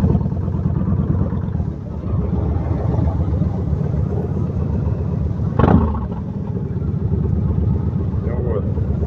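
A Yamaha XV 1600 Road Star motorcycle with a custom exhaust rumbles steadily at close range, a deep, continuous low engine note with a brief swell midway, while someone talks over it throughout.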